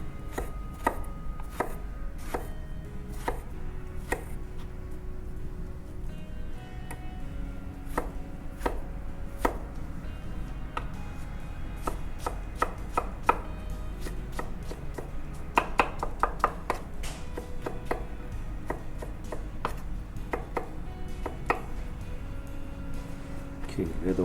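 A knife chops strawberries for sushi on a cutting board, sharp, close thuds in quick uneven bursts across the whole stretch, with people talking underneath.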